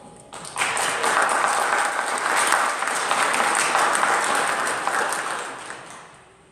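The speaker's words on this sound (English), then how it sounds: "Please join me in celebrating our Petersburg Social Services team with a grand round of applause." Applause fills a city council chamber for the Petersburg Social Services team, a dense, steady wash of many hands clapping that starts abruptly, holds for several seconds and then fades away.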